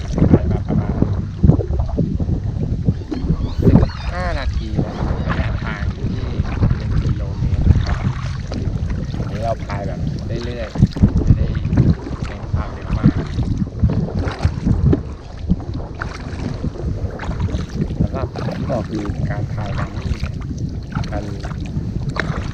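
A WHITEWOLF 9.9 ft single-seat kayak is paddled on calm water, with steady splashing strokes and gurgling under heavy wind buffeting on the microphone, close and continuous.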